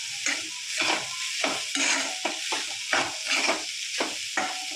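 Grated coconut being stirred and sautéed in a pan for steamed modak filling, with repeated scraping strokes of a spoon and a light sizzle, close and steady, no voices.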